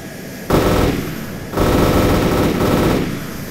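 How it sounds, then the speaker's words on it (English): The cannon of a Harrier jet in a close air support video game fires in two sustained, loud bursts of rapid rounds, separated by a short pause, with no talk over them. "I confirm cannon is effective against armored target."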